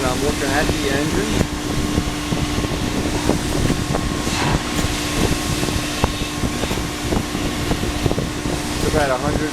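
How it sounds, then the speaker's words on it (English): Steam engine running in the hot engine room of the American Queen steamboat on the Mississippi, a loud steady mechanical roar and hum with rhythmic knocks, while a person talks over it. "A real steam engine."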